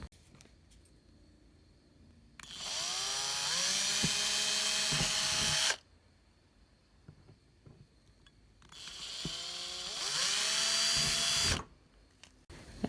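A power drill with a 1.5 bit bores holes through plaster of Paris in two loud, steady whining bursts of a few seconds each, separated by quiet.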